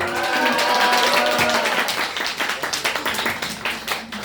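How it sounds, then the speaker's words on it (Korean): An audience at a live vocal concert breaks into applause, the crowd's clapping dense at first and then thinning into more distinct, separate claps, with faint voices mixed in. "박수 한번 주세요"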